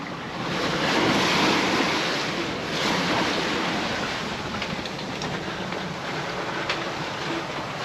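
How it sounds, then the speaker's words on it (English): Rushing water and surf against a sailboat's hull at sea on a gusty day with steep waves, loud and steady with gusting wind swelling and easing underneath, close and with no voices. "this is the windiest day at sea so far"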